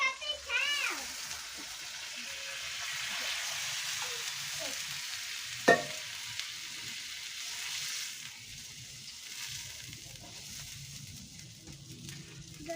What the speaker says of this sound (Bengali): এবার আমি জল দিয়ে দেবো, পরিমাণ মতো জল দিয়ে দেবো।